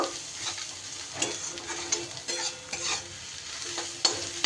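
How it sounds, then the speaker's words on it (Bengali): Ground roasted spices being stir-fried in a hot pan for a fish roe dish, with a steady sizzle and repeated scraping stirs close by, alone without talk. "যে ভাজা মশলাটা গুঁড়ো করলাম সেই ভাজা মশলাটা এরই সাথে ভালো করে কষিয়ে নেব"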